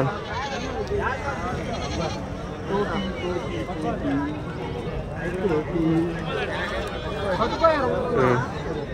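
Sheep and goats bleat repeatedly at the Angallu weekly livestock market, where lambs, rams and goats are traded, the calls overlapping near and far over steady crowd chatter and people talking close by.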